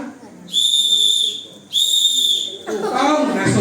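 Students blow whistles during a school traffic-signal drill, giving two long, shrill, steady blasts separated by a short gap, followed by rustling and noise close by.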